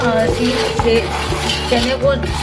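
Chickpeas are being roasted again in a cooking pot to crisp them after they went soggy, with steady metallic scraping and clinking of a utensil against the pot and faint voices in the background.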